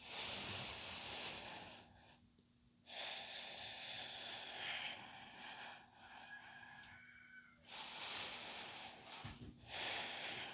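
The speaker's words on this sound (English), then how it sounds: "Breathing." Slow, deep breathing during a yoga flow, with long airy inhales and exhales in several drawn-out waves separated by short quiet pauses, close and fairly soft.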